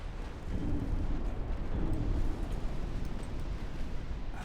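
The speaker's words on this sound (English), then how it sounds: "Another multiple torpedo hits." Torpedo hits explode against a warship in the naval battle game Ultimate Admiral Dreadnoughts, a loud, deep rumbling boom that swells and rolls on for several seconds.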